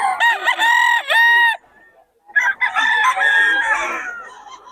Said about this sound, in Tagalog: Ang daming manok ng Boss Tony ngayon mga idol